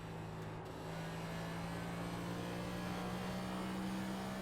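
A NASCAR race car engine in the iRacing sim drones steadily, a continuous tonal roar holding nearly level with a slight rise in pitch as it accelerates, with no voices.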